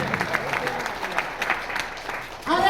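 An audience at a Cashmora gathering in Lucknow claps in scattered, uneven bursts of hand-claps that stay moderately loud, then a voice starts talking over the fading applause near the end.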